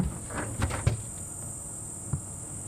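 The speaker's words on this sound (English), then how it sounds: "hear the cicadas that are calling all the way around us" A steady, high-pitched insect drone of cicadas during a sunset safari drive fills the background without pause, with a few soft knocks and rustles nearby.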